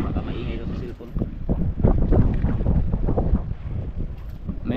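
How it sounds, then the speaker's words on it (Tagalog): Strong wind gusting straight into a phone microphone outdoors, a loud continuous buffeting rumble that swells and churns for the whole stretch. "Grabing lakas ng hangin."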